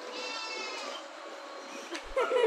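A goat bleats in a drawn-out, wavering cry that carries steadily through the clip at moderate distance, ending in a brief scuffle of other noise.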